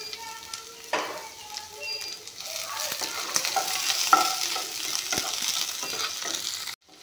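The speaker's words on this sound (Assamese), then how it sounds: "পিঁয়াজখিনি দি দিছোঁ। এইখিনি অলপমান ভাজি ল'ম।" Sliced onions, with dried red chillies, ginger, garlic and five-spice seeds, sizzle in hot oil in a pan. A spatula stirs with scraping strokes through a steady close-up frying hiss.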